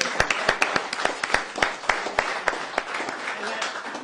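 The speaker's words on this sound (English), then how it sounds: "we should give Doug another round of applause" Applause from a crowd at a political campaign announcement, a dense patter of clapping with a few sharper individual claps standing out, voices murmuring underneath.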